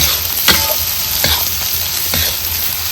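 Masala with garlic and coconut roasts in a pan for fresh pavta aamti, a loud steady close sizzle with a few spaced stirring scrapes and a sharp knock at the end.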